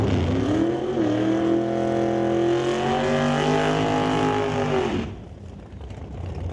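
Drag race cars with naturally aspirated 584-cubic-inch Chevy engines roar loudly at an NHRA event, a sustained high-revving blast lasting about five seconds before it cuts off sharply, leaving quieter ambient noise behind.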